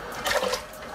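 Cold water pours into a pot of fried pork ribs to start a borscht broth, a brief rushing splash that swells and fades over under a second, close and alone.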